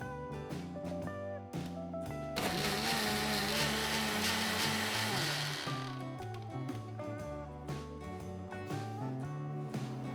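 An electric mixer grinder whirs as it grinds millet batter with a little added water, a loud motor burst in the middle over steady background music.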